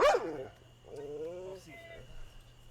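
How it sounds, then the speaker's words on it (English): A dog gives a few short barks and yips, fairly near and moderate in volume, with a faint hum underneath. "interested in the dog barking"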